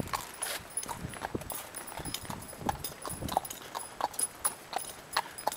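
Horse hooves clip-clopping on pavement in Washington DC near the U.S. Capitol, a steady, moderately close walking rhythm of sharp hoof strikes over light street ambience, with no talking.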